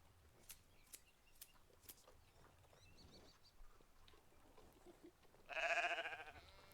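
Sheep bleats in the Medieval Dynasty game during winter, a short loud bleat near the end following quieter ambient farm noises and faint steps.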